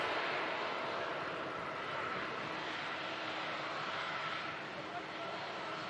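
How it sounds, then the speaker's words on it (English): An easyJet airliner on short final approach into Manchester Airport, a distant, steady low engine rumble with a faint hiss, fairly quiet and unchanging throughout. "EasyJet just on a short final now"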